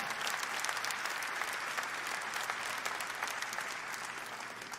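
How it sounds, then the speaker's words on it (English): Audience at the 2018 Olympia bodybuilding weekend breaks into steady, dense applause, a continuous wash of clapping from a large crowd that holds evenly for several seconds without any talk. "let's give a great round of applause"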